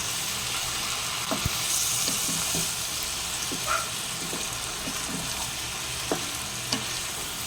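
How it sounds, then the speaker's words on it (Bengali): Spice paste sizzles in a pan after a little water goes in, a close, steady hiss with occasional clinks and scrapes of a stirring spoon, no speech. "আমি সামান্য একটুখানি জল দিলাম, কেননা মশলাটা পুড়ে যাবে।"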